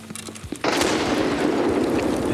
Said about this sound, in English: And he's throwing grenades.